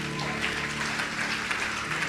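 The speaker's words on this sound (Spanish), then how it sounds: "¿Cuánto le dan ese aplauso al Rey?" Worshippers in a church applaud the King, a brief burst of dense, even clapping from a crowd at moderate volume.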